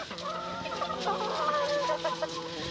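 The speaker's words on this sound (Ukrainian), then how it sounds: "О, диві, курка вона." Chickens clucking and chattering close by, a steady run of short calls throughout with some rustling in the background.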